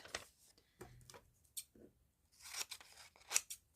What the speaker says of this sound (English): So I'm just going to trim that down a little bit.